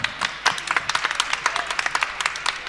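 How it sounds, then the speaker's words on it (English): A small audience claps for guests at a fan convention panel, a quick burst of close, irregular hand claps that stays moderate and thin. "I want to get a big round of applause again for Jonathan Lindsley and Nathan"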